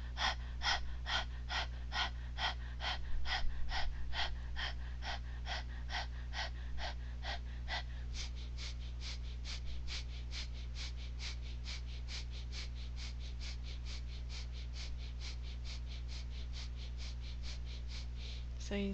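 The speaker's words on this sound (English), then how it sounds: "breath of fire is the same pattern, but it's faster and through the nose" Rapid yoga breath-of-fire panting with the tongue out, a fast, even train of sharp breath pulses that speeds up partway through, close and continuous over a steady low hum.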